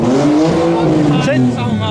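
A Honda demolition derby car at the Herkimer County Fair revs loudly and close, its engine note sliding up and down in a harsh, screaming whine, with voices mixed in.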